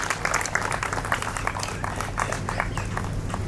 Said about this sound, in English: Let's extend a warm welcome to Mr. Suhaas Ahuja with a round of applause